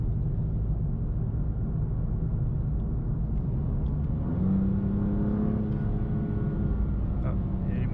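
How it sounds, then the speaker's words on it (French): BMW M2 Competition with 410 hp and 550 Nm driving on the road, its engine a steady low rumble and whir throughout, with a brief rise in revs partway through. "Un monstre de puissance que cette BMW M2 nous offre."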